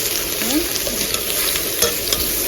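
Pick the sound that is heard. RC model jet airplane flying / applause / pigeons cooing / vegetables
vegetables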